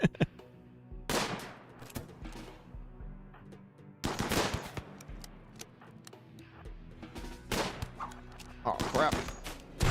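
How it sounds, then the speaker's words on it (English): Gunfire from a video game shootout, heavy bursts of shots in several clusters with a short pause between volleys, loud and close over a low background game soundscape. "And now I can shoot him again."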